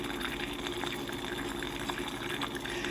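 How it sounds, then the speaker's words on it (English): Liquid poured steadily into a container while making arnica pain salve, a continuous close splashing and trickling gush that runs unbroken for the whole stretch with no talk over it. "pour it all in here"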